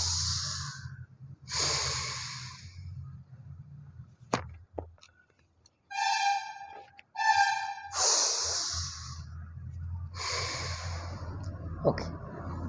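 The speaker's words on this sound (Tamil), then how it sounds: "முதல்ல நல்லா மூச்சு இழுத்து விடணும்" A person lying on their back for Matsyasana fish pose breathes in and out deeply several times, each long breath a close, airy rush, with a few sharp nasal sniffs between them.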